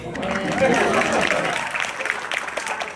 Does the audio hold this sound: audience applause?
yes